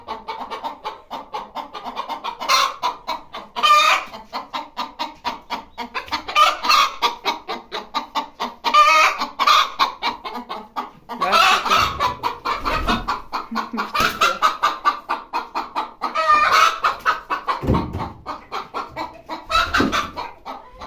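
Hens cluck noisily and continuously nearby, overlapping calls rising into louder squawks now and then.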